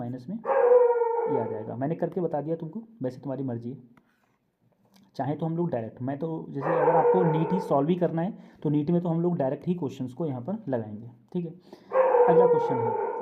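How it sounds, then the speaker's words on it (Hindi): Dogs bark and howl in the background outdoors, their drawn-out cries rising intermittently beneath a man's continuous close lecturing voice. "ये कुत्ते बहुत भौंक रहे हैं"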